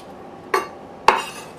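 Diced tomato tossed into a pot of turkey soup, two quick clinking impacts against the pot a half second apart.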